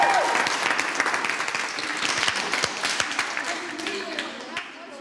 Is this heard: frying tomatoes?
no